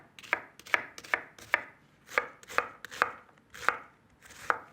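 A knife chops onions on a board in about eleven crisp, evenly spaced strikes, close and clear with nothing else audible.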